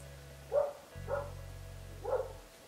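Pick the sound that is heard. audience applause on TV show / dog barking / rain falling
dog barking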